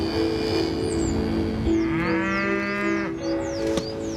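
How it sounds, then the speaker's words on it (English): Pure Highland cattle on a British farm moo loudly and close by, one long drawn-out bellow rising and falling, with faint bird calls in the background. "pure Highland cattle"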